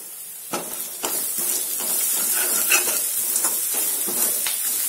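Ginger, garlic and asafoetida sizzle loudly in hot oil for a dal palak tempering, a bright continuous frying hiss broken by repeated scrapes and clinks of a spoon stirring the pan.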